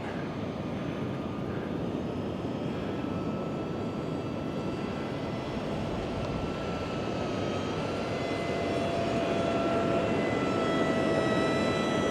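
Close and steady, an Esky Eyas radio-controlled model aircraft flies in wind, its small motor holding a continuous whine with shifting tones over a broad rush of wind, getting slightly louder toward the end.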